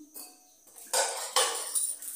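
Dishes and cutlery clatter and clink in a sink, with bursts of running water and scraping, fairly close, no voices.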